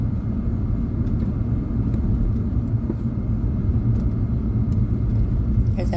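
Steady engine rumble and road noise from a car driving through downtown Kingston, Jamaica, continuous and fairly loud throughout, with no talking.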